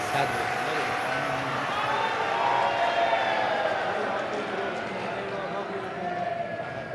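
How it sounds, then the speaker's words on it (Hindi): An audience at a Shiv Mahapuran katha in Rajasthan claps loudly, a dense, sustained wash of applause that swells slightly in the middle and carries on throughout, with some tonal sound under it. "एक बार जोरदार ताली बजाइएगा।"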